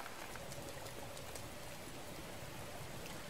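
Rain pours steadily in the Zelda game Breath of the Wild, an even, hissing patter of drops with no voices, continuous throughout.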